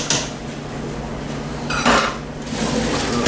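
Potatoes being mashed and stirred in a pot in a kitchen for BBQ mashed potatoes, a continuous close clatter and scraping of a utensil against the pot, with a louder burst of knocking midway.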